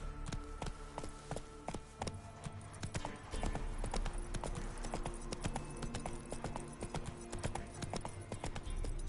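Steady, rapid hoofbeats of the horse Roach galloping in The Witcher 3, running without a break over a bed of game music.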